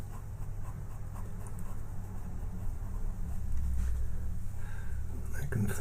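Soft scratchy strokes of sharp pencils on paper while drawing a robin's head, close and quiet, continuing under a person speaking in a low voice.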